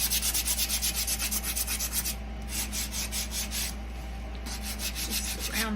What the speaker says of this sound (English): Take the sander to this side.